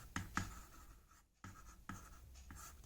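Chalk or marker strokes on a board during a maths lesson, several short scratchy taps and drags in an irregular rhythm, close and quiet.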